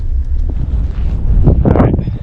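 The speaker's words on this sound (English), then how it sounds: "Pretty windy. It's always windy out here." Strong wind buffets the microphone outdoors at a Kansas bowhunting spot, a steady loud low roar with gusts that swell toward the end.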